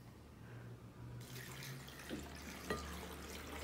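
Water streams from a tap into a blender for a papaya and spinach smoothie, a faint steady pour that begins partway through, with a couple of small knocks.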